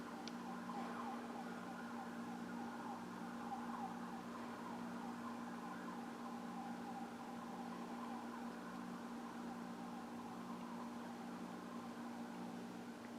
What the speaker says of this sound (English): Let the sirens get by.